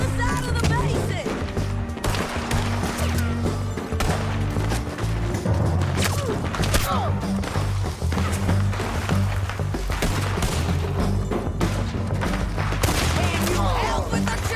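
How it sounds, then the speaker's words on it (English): Gunfire in the Western video game Red Dead Redemption 2 during a shootout. Rapid, dense volleys of shots crack continuously at close range, mixed with scuffling and shouted voices throughout. "Can you help with the shooting?"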